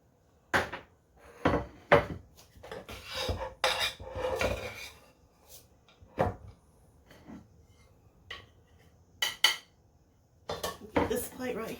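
Rice being spooned out of a pot onto two plates, with repeated close scrapes and clinks of a utensil against dishes and cookware in irregular bursts.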